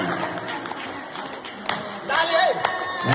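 A crowd claps at a New Year greeting event, steady scattered applause that swells louder near the end, with voices chattering through it.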